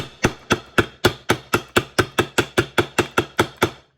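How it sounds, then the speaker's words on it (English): A hammer taps a flat wooden board laid over a clutch cover to seat it, in a steady, even rhythm, about sixteen sharp close knocks in quick succession. "I might give it a little whack with a flat board just to make sure I got that seated well"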